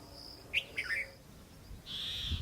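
Several short bird chirps and tweets, with a sustained high trill near the end, against a quiet, damp outdoor background in a misty jungle during the rainy season in Bundi, India.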